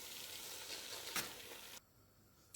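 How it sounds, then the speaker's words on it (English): Steady sizzling and hissing of tomato stew frying in vegetable oil in a hot pot, cutting off abruptly near the end. "My tomato is well dried now, so I'll go ahead and start frying the stew."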